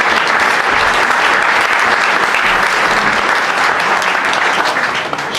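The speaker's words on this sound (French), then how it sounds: "Je vous demande de l'accueillir par des applaudissements" Loud, sustained applause from an audience at a celebration honouring a junior world champion cyclist, a thick continuous wash of many hands clapping without a break.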